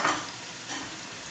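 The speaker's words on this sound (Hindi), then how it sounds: "यहाँ करीबन मुझे 4 से 5 मिनट हो गए हैं आलू को भूनते हुए। अब हम इसमें ऐड करेंगे गोभी।" Potatoes fry in a pan for dhaba-style aloo gobi as cauliflower goes in, a brief, dense, close sizzle with a soft thump at the start.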